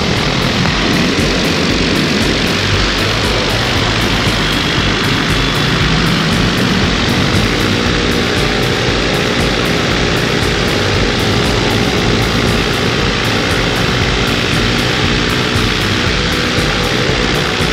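Paramotor engine and propeller droning loudly and continuously at a summer fly-in field, a steady close roar throughout with no talk.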